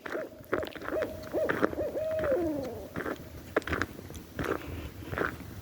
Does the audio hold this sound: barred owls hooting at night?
yes